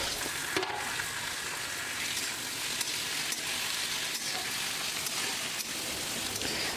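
Onion, chili and tomato fry in a pan while making pasta, giving a constant dense crackling sizzle with occasional sharp pops and light stirring clicks.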